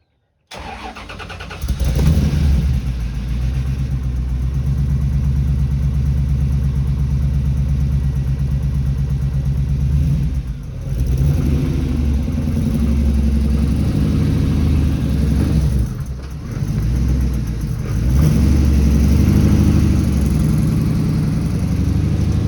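Porsche 914 fitted with an LS3 V8 fires up and drives off, a loud, close, sustained engine roar with brief dips around gear changes, running continuously for over twenty seconds with no talking.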